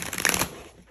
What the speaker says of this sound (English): We're just going to get a good shuffle here.